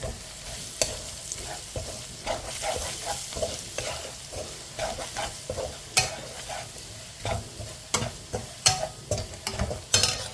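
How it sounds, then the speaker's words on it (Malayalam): Coriander powder and Kashmiri chili powder sautéing in a pan while cooking wild boar fry, Kerala style; close frying hiss with repeated spatula scrapes and taps against the metal in an uneven rhythm, no talking. "ഒരു രണ്ട് സ്പൂൺ മല്ലിപ്പൊടി ഒരു ടീസ്പൂൺ കാശ്മീരി മുളക് പൊടി ഒന്നൊന്ന് വഴറ്റാം"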